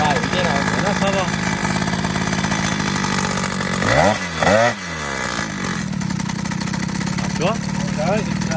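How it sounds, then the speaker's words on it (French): A Peugeot 103 moped engine with a fault holds a high idle that won't drop, buzzing steadily up close with a brief dip and surge midway, while people talk over it. "Ce que je trouve bizarre, c'est que le ralenti, il descend pas"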